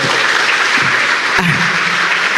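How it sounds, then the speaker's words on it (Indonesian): Loud, continuous applause from an audience at a live comedy drama performance, with dense clapping throughout and a brief thump and murmur of voices partway through. "Tepuk tangan sekali lagi dong."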